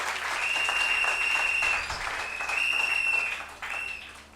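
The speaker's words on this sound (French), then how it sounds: "Acclamez pour cette parole." A church congregation claps steadily after a French-language sermon, with sustained applause that swells, dips briefly near the end and picks back up, close and fairly loud.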